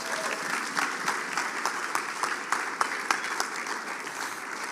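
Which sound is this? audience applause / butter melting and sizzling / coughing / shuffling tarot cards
audience applause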